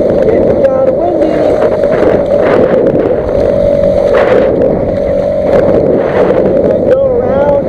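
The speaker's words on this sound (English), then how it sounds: "Getting kind of windy." Steady wind roars across open, choppy water of Tampa Bay during kayak fishing, a loud continuous rush with buffeting gusts that lasts throughout, with no other clear sounds standing out.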